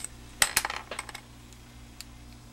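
Small snips trimming a piece of felt for a punch-needle puppy's bat hat, giving a few quick, close metallic clicks near the start, followed by fainter scattered snips, with no talking.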